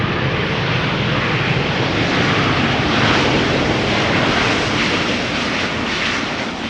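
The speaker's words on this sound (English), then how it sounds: "They often have a tendency of getting loud and applying the reversers while landing." A loud, continuous roar of a jet airliner close by, broadband and rushing, swelling slightly as thrust reversers are applied during landing.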